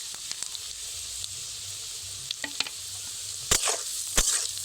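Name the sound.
sesame seeds and cumin sizzling with fried chana dal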